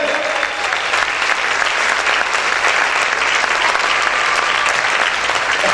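Sustained applause from a church congregation, many hands clapping in an even, dense roar that stays loud and unbroken from start to finish.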